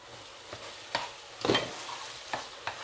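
Onions simmering in a pan for bolognese, stirred with a few brief scraping strokes over a faint low sizzle, quiet and close.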